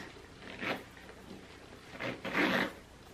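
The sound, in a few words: zipper closing on a full Louis Vuitton bag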